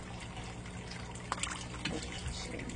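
Bluegill fish in a backyard pond splash at the surface as they are fed, with a couple of brief, close water slaps over a constant trickling, watery background.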